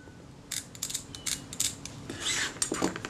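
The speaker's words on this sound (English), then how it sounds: "Click stops are positive but not unduly stiff." A series of crisp mechanical clicks from the aperture ring click stops of a Kodak Retinette IA camera turning through its detents, some quick in succession, close and fairly quiet.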